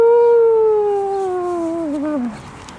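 A voice imitates dogs howling at sirens: one long, loud, wavering tone sliding slowly downward in pitch, ending in a short wobble after about two seconds.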